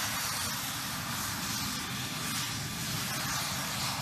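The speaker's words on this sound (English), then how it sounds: "With the use of expedient trim pads, fighters are put to the test while resting on an existing runway." A fighter jet engine runs up at high power while the aircraft sits anchored on a runway trim pad, giving a loud, constant roaring hiss with no pauses.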